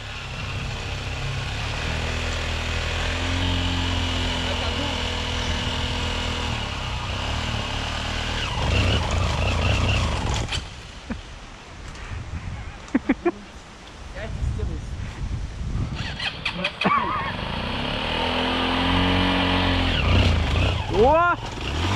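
A Minsk X250 motorcycle on a rough dirt track revs and drones near and loud, easing off and cutting out in the middle amid clatter and knocks before climbing again, with people talking over it.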